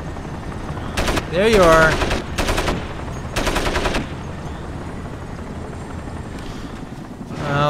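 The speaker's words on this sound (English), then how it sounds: "Where's that helicopter? Helicopter." A helicopter in the Crysis video game holds steady in the background while loud bursts of automatic gunfire cut through, and someone speaks briefly over the action.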